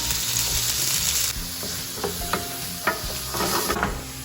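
Capers frying in a pan of oil, sizzling steadily with a few sharp pops and crackles as they hit the heat, close up with no talking.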